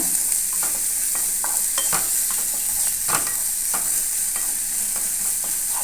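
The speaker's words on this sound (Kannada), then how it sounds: "ಒಂದು ಸ್ವಲ್ಪ ಈರುಳ್ಳಿ ಹಾಕೋತೇನೆ ಫ್ರೈ ಮಾಡೋಣ್ರಿ ಇದನ್ನು" Onion and curry leaves fry in oil for mango pickle, a steady bright sizzle throughout with scattered crackles and spatula scrapes against the pan, close and continuous.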